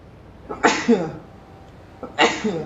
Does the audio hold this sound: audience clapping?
no